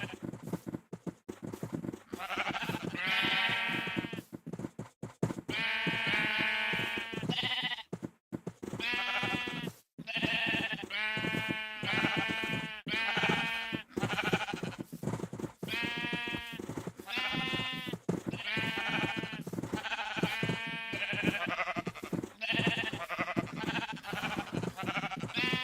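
Sheep in a blocky zombie survival video game bleat repeatedly, loud and close, a steady run of overlapping calls throughout with no talk over them.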